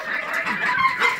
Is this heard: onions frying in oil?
no